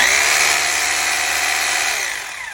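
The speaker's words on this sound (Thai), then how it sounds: "อันนี้นะคะจะเป็นเจาะปูนนะคะกระแทกนะคะ" An Onsen 2-28 rotary hammer drill in hammer mode for concrete keeps up a loud, continuous motor whine and buzz with no voices, then winds down near the end.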